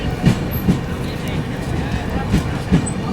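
The LTT Mumbai–Chennai Express pulling out of a station: clickety-clack wheel thumps come at irregular intervals under steady rolling rumble, close and fairly loud, with a voice talking over it.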